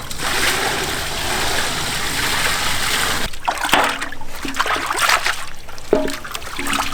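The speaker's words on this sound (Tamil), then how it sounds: "சுத்தமாக கழுவி எடுத்துக்கணுமுக்கா" Meat being rinsed clean in water for a spicy butter leg gravy in a village kitchen, with steady splashing and trickling for about three seconds, then broken sloshes and drips as the pieces are handled.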